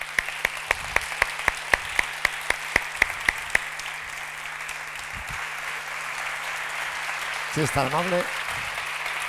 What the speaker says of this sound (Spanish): ¿qué les parece si recibimos con un fortísimo aplauso